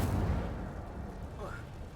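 The Incendio fire spell goes off in the game Hogwarts Legacy with a loud low whoosh-boom at the start, trailing into a roaring rumble with a faint rising tone.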